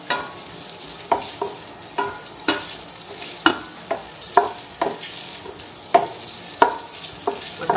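Food fries and sizzles in a pan with a steady hiss, broken by regular scraping and stirring knocks from a utensil about every half second, close and with no voices.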